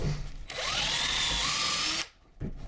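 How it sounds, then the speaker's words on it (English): A power drill bores into the side of a wooden shave horse work platform near a treadle arm, a loud steady whine lasting about one and a half seconds, then stopping abruptly, with a brief knock shortly after. "drill a hole right into the side of the main work platform"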